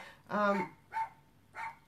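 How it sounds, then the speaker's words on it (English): A neighbour's dog barks three times, one longer bark followed by two shorter ones with pauses between, fairly close and clear against a quiet background. "it's that friggin' neighbour's dog. It doesn't stop barking all day."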